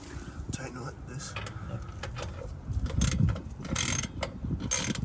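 A part is tightened during installation of a Tomei exhaust on an Infiniti Q60/Q50, with rapid ratchet clicks and metallic mechanical rattles close up, growing louder toward the end, while a person talks over the work.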